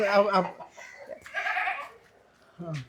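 A goat bleats on a farm that also keeps chickens, with a short wavering cry at the start and another near the end while a voice talks in between.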